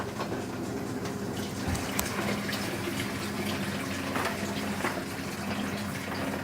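A Zenith wringer washer runs with a steady, continuous whirring and watery churn that stays at an even, fairly close level throughout, with no talking.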